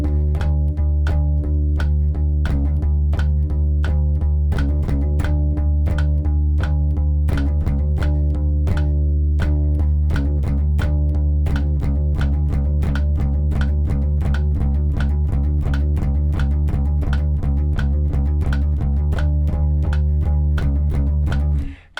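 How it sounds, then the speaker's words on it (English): An electric bass plays the repeating riff of a song's ending fade, steady rhythmic plucked notes with strong low sustain, loud and alone for over twenty seconds without talk. "The ending sounds like this."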